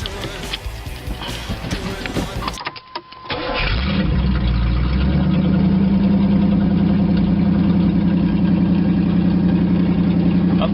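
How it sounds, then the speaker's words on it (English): A Pontiac Trans Am fitted with a new dual exhaust cranks and catches, then settles into a loud, steady, rumbling fast idle up close, with faint background sounds before the start. "why don't we crank it up and hear that new dual exhaust?"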